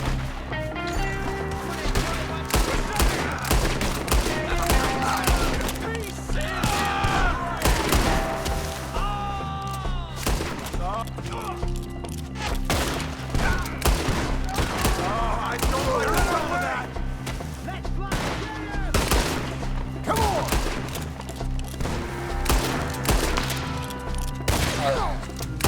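Gunfire in Red Dead Redemption 2, a steady stream of rapid shots and thumps going on through the whole stretch, loud and busy, with people talking and game music underneath.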